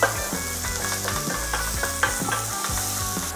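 Food sizzles and fries in oil in a pan, with a continuous crackling hiss and occasional stirring clatter, close and steady with no talking.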